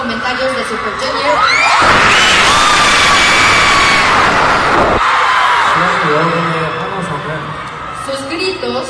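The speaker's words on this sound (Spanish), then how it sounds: "Yo creo que es un grito que nunca he escuchado." A concert crowd at a show in Mexico screams and cheers, a dense roar of shrill shouts and whoops that swells loudly in the middle, with voices mixed throughout.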